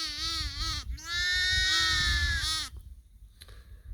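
Lambs and ewes bleat in a green grassy field among a flock of 200 or more lambs, one long, loud, wavering bleat up close followed by a brief fainter call, with no talking.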